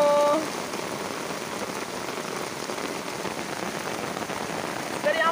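A violent rain shower pours steadily over a hillside sheep pasture, a dense, even hiss of drops close by for several seconds, with no voices.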